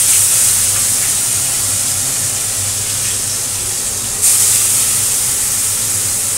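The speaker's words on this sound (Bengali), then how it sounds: "চলো তবে মাছগুলো ভাজা করে নিই" Fish frying in a pan of oil, a continuous loud, even sizzling hiss close by, with a brief surge near the end.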